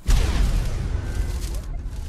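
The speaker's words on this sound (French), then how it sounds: "On va faire déjà l'attaque qui fait l'explosion." Explosion attack of a demonic Dilophosaurus in the video game Ark Ascended, a booming blast followed by a dense rumbling, crackling barrage that fades out over about two seconds.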